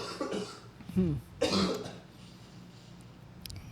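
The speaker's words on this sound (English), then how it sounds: "I typically have like a cough that lingers for a week or so" A person with a lingering cough from a recent illness coughs and clears the throat a few times in quick bursts, close and fairly soft, then quiet.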